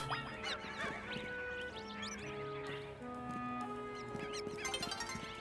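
Dense, continuous clucking and squawking from a flock of chickens in the video game Pokemon Legends: Z-A, with overlapping calls and rooster-like cries filling the whole stretch at steady volume.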